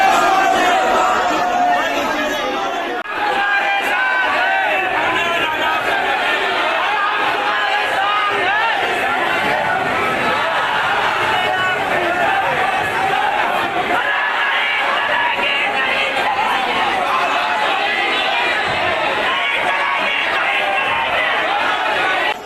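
A large crowd of protesters outside an airport shouts slogans in a dense, continuous roar of voices and chanting, loud and close, with cheers and whoops mixed in throughout.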